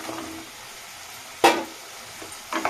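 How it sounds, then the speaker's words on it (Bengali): Pointed gourd and fish roe are sautéed in a pan, with a soft background hiss broken by a sharp, loud stirring scrape in the middle and a few smaller scrapes near the end. "এভাবে এটা কষিয়ে নেব দু তিন মিনিট কষিয়ে নেব"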